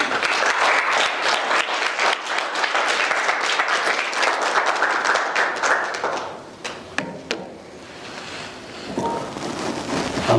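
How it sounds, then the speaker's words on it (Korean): A church congregation applauds warmly to welcome a pastor, dense steady clapping for about six seconds that thins out and fades as the room quiets. "우리 목사님 앞으로 나오실 때 환영의 뜨거운 박수로 환호로"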